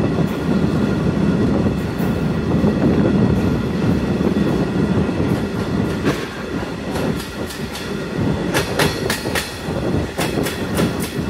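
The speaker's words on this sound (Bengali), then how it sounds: "আমাদের ট্রেনটি এখন ধীরে ধীরে উপরের দিকে উঠছে" Aboard a stone-carrying freight train climbing the approach onto a rail viaduct near Dhaka, a loud, steady rumble of wagons rolls on. Sharp, rhythmic clickety-clack wheel beats grow stronger over the last few seconds.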